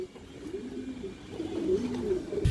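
Pigeons coo in soft, repeated low phrases close by, a steady murmur of several birds running through the whole stretch with a brief louder bump near the end.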